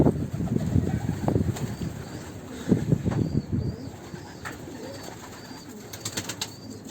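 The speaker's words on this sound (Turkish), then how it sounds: "Kuşlarım indi." Pigeons land with bursts of flapping wings followed by soft cooing, nearby and moderately loud, the flutters clustered early and the coos trailing into quieter moments.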